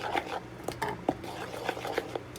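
Ghana sugar bread ingredients being mixed in a bowl, giving soft irregular squishy stirring and light clinks of utensil against the bowl, close and fairly quiet with no talking.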